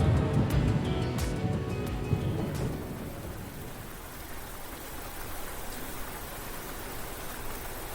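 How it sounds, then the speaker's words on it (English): Steady rain pours down in the video game Trails of Cold Steel IV, a dense even hiss, heavier and fuller in the first few seconds and then settling into a softer constant wash with no other sounds. "It's raining."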